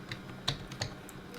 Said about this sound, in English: we start typing in 284.